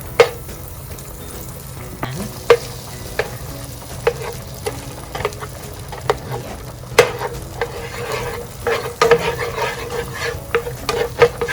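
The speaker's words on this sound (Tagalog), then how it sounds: "maglalagay lang ako ng 2 tablespoons of butter." Two tablespoons of butter melting in a pan for carbonara sauce, a steady loud sizzle with frequent sharp utensil knocks and scrapes against the pan.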